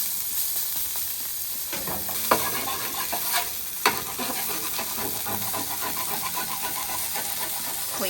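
Steak sizzling on a hot stainless steel griddle for a steak sandwich, a steady close frying hiss throughout with a few sharp scrapes and stirring clatters as the meat is moved.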